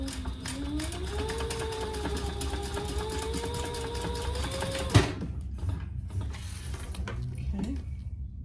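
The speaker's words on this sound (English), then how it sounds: "it's actually sewing the jelly very well" A sewing machine stitches clear jelly vinyl for a cosmetic pouch, its steady running whir continuing for about five seconds before stopping abruptly with a small clunk, followed by quieter handling noises.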